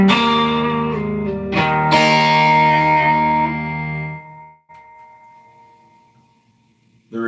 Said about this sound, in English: The reverb sounds good.